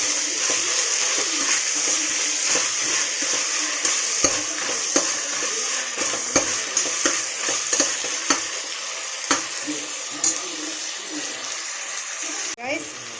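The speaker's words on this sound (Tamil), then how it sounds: "பாருங்கள் கைஸ், நல்லா தக்காளி ஃப்ரை ஆகிடுச்சு" Tomatoes frying in oil in a pot for a one-kilo biryani, a steady sizzling hiss broken by repeated scraping stirs and clinks of a spoon against the pan, close up with no talk.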